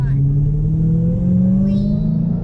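A Dodge Challenger SRT Hellcat accelerates hard, its engine note climbing steadily in a loud, continuous rising drone heard from inside the car.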